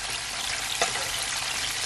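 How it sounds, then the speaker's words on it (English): Buttermilk-coated chicken frying in hot oil, a dense, continuous sizzle close by with one brief clink partway through as the pieces are turned. "my chicken been frying for at least 5 minutes"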